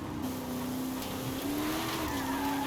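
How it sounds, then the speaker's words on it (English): DLC car in Forza Horizon 5 accelerating fully out of corners, a steady, loud engine drone that climbs slightly in pitch, with a hint of tyre noise. "That's what it looks like when I accelerate fully out of corners."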